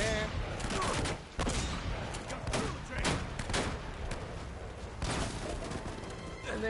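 Continuous video game gunfire with dense bursts of rapid shots and heavy fire that carries on without a pause throughout, loud and close.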